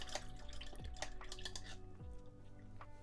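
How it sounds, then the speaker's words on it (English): A paintbrush is rinsed in a water pot while painting miniatures with Contrast paints, giving light watery sloshes, drips and a few small clinks against the container. The sounds are close and continuous, with no talking. "is going to wash the brush"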